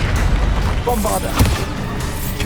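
A Bombarda blast spell fired in Hogwarts Legacy bursts with a booming hit over rumbling battle noise, one loud impact standing out near the middle of the clip.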